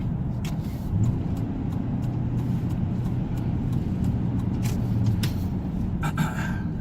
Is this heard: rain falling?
no